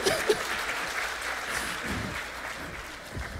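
Moderate audience applause at a master class, a steady patter of clapping with no one speaking.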